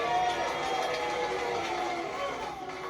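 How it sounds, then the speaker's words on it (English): Studio audience applause, a steady broad wash of clapping that holds loud for the whole stretch and eases slightly at the end. "Was that the women applauding or the men?"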